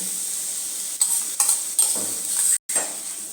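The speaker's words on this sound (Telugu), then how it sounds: "ఆల్రెడీ ఉడికించి పెట్టుకున్న గ్రీన్ మూంగ్ దాల్ పెసలు దీంట్లో వేసుకోవాలి" Precooked green moong dal going into a hot pan for a green gram curry, a steady sizzle broken by several scraping stirs of a spoon against the pan, close and loud, with no talk.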